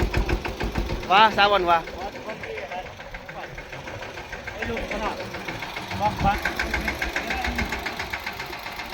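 A tractor engine chugs steadily under heavy load while ploughing a farm field, with a rhythmic knocking pulse, running throughout while people talk over it.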